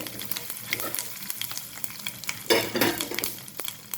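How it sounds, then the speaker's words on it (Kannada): Mustard seeds, cumin and broken dried chillies crackling and spluttering in hot oil in a pan, a dense close sizzle with sharp pops that swells in a louder burst near the end. "ಸಾಸಿವೆ ಚಿಟಿಪಿಟಿ ಅಂದಮೇಲೆ ಜೀರಿಗೆ ಒಂದೆರಡು ಬ್ಯಾಡಿಗೆ ಮೆಣಸಿನ್ಕಾಯಿನ ಮುರ್ಕೊಂಡು ಹಾಕ್ಕೊಂಡಿದ್ದೇನೆ"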